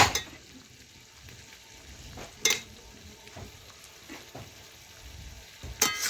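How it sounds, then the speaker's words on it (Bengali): Potatoes are stirred into chicken curry in a pan, giving a faint sizzle under a few sharp spoon clinks against the metal, about three distinct knocks spread apart with soft scraping between, without any speech. "এখন আলুগুলো দেখুন এর সাথে মিশিয়ে নিচ্ছি।"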